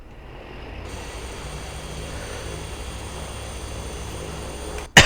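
An Airpac 995 plane engine at low idle in the Prepar3D flight simulator drones steadily and loudly, rising slightly just after the start and holding as an even, continuous hum with no talk.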